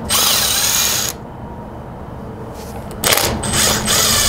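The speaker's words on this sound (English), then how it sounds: "Impact driver to remove both bolts." An impact driver removes two bolts from a Yamaha XT225 engine. It whirs loudly and close by in two strong bursts, with a quieter, steadier hum between them.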